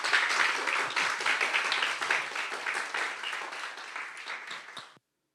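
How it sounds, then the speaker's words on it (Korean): Applause from a church congregation at a Sunday service, welcoming a new pastor. A steady, fairly distant wash of many hands clapping keeps up for about five seconds, slowly fades, then stops abruptly. "우리 격려의 박수 한번 외치겠습니다."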